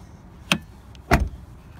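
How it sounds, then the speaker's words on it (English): A 2015 Dodge Challenger R/T Scat Pack Shaker's smart-key door unlocks at a touch of the handle, giving two short, sharp mechanical clicks about half a second apart, close and fairly quiet. "if I just touch the door handle, it unlocks"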